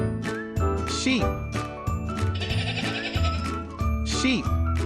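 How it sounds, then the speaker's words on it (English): A sheep bleats repeatedly, loud and near, with wavering cries set against a bright chiming jingle. "Sheep."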